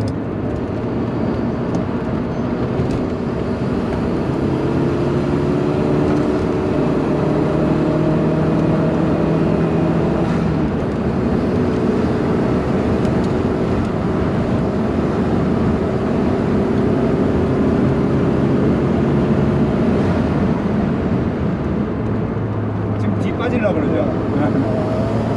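A Kia Elan sports car drives an easy lap of the Inje Speedium circuit, its engine droning steadily and close throughout with shifting pitch, while a person talks over it.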